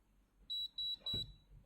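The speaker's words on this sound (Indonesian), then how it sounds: "Nah, pokoknya sampai bunyi bip-bip ya." A Galvanic Spa facial device sounding three short, high electronic beeps in an even row, quiet and close, with a soft low thump under the last one.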